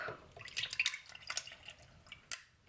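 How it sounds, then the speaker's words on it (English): Ice and almond milk go into a blender jar for a banana smoothie, with close, light clinks of ice and splashy pouring and dripping in a quiet kitchen. "So 1 whole banana, then I'm gonna put some ice, some almond milk."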